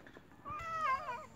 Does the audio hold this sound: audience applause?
no